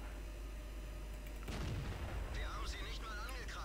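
Tank cannon shots in the game World of Tanks, a couple of deep booming blasts in the second half, with a voice talking faintly over the game noise.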